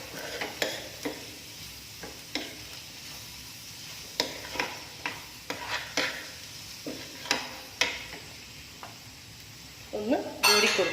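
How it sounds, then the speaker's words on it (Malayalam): A spoon stirs a Kashmiri chilli powder mixture in a pan for a spicy chicken cake filling, with repeated scraping strokes and metallic clinks against the pan over a low sizzle, close and irregular. "ഇതിൻ്റെയൊക്കെ മുളകിൻ്റെയൊക്കെ പച്ചമണം മാറുന്നത് വരെ നന്നായിട്ട് ഇളക്കി കൊടുക്കാം"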